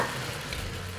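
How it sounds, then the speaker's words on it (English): Garlic sizzles steadily in a hot Instant Pot, a soft, even crackle of frying with no voices. "Starting to hear it sizzle."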